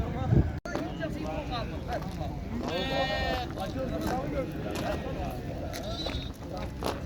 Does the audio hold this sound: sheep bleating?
yes